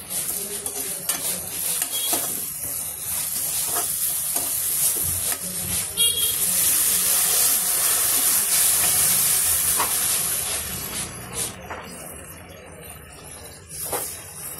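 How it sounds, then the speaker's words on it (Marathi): Water poured into a pan while making spicy rava upma cake, a steady hissing, splashing pour with light clinks of pots and utensils, rising and then tapering over the stretch, no voices. "आता ह्यात आपण टाकणार आहे पाणी, घेतलेलं ऑलरेडी मी पाणी."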